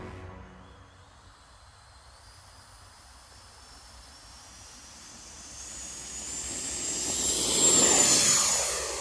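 A Freewing 90mm F-16 V2 RC jet on a 6s setup takes off. A faint distant whine and hiss rises steadily into a louder rushing roar with a rising high tone as it gets airborne.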